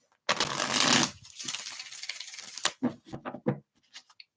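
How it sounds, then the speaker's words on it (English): Tarot cards being shuffled by hand: a dense riffling burst near the start, then a scatter of soft card slaps and flicks that thin out into a few isolated taps, close and fairly quiet. "All right, 2 more shuffles for Thalia."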